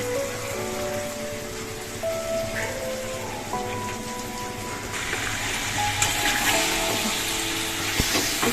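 Marinated chicken frying in ginger and garlic over a high gas flame, a dense continuous hiss and crackle that swells louder toward the end, with faint clinks and no talking.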